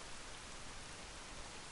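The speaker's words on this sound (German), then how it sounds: "Und ach, Regen kann ich überhaupt nicht leiden." Steady rain hissing down in the video game S.T.A.L.K.E.R. Call of Pripyat, a faint, even wash of falling water with no breaks.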